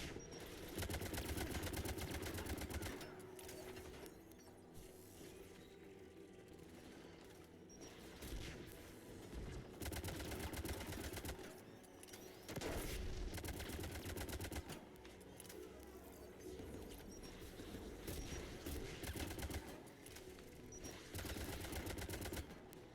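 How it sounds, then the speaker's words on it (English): Anti-aircraft guns in the video game Mass Effect 3 keep up a rapid, dense rattling barrage that runs steadily for the whole stretch, with distant heavy booms surging and fading. "There, the anti-aircraft guns."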